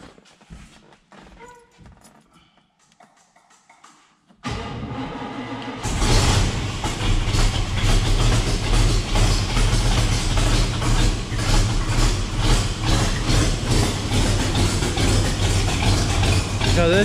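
A flooded El Camino engine fitted with Holley EFI cranks, first as quiet intermittent clicks and churning, then as a loud, sustained rough roar that stays heavy and uneven to the end.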